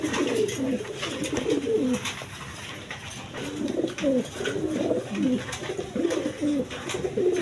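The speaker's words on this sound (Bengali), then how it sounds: "একদম বিগ সাইজের কবুতর দেখেন দেখার মতো কবুতর" Large pigeons for sale coo over and over in low, throaty bursts, several birds overlapping in a steady, close chorus with no talking.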